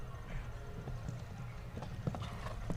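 Hooves of an experienced show jumper at an international team competition, a run of uneven clip-clop thuds on the arena footing, fairly close and steady with a soft crowd murmur behind.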